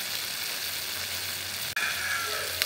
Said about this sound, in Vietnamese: Em xào nãy giờ thì cái nồi đậu rồng của em nó cũng đã chín rồi.